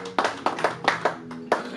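A church congregation at an evangelisation service claps in acclamation, a few sharp, close hand claps in an uneven rhythm, with no speech over them.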